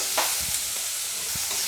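Prawns fry in oil in a pan for a yogurt prawn dish, giving a steady close sizzle with a few soft stirring scrapes, and nobody speaks.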